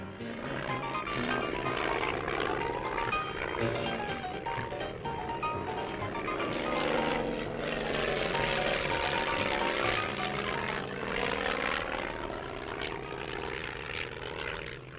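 A propeller plane drones steadily and loudly throughout, its engine pitch rising and falling slightly as it flies overhead.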